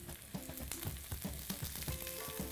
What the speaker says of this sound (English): then we'll just saute the zucchini, onions, and garlic until it's nice and cooked and soft and kind of browned up